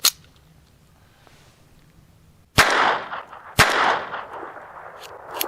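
A pocket pistol fires its last two rounds of PPU ammo: two sharp, loud shots about a second apart, each trailing off in a brief ringing decay after a faint earlier click.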